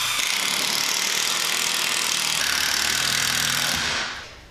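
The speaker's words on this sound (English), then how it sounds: "We're gonna screw down our 2x4s flush with the chalk line." A power driver runs in a steady, loud, continuous whir while driving screws into 2x4 boards laid along a chalk line for a hardwood floor, then winds down near the end.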